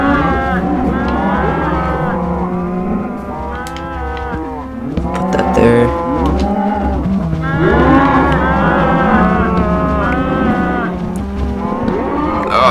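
Cows mooing loudly and close by, several long, drawn-out lowing calls overlapping one after another with a low rumble underneath.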